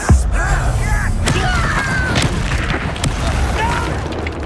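Confringo fire-blast spells burst in Hogwarts Legacy as a string of booming thumps and crackling pops over a busy, continuous combat mix, with a shouted voice briefly underneath.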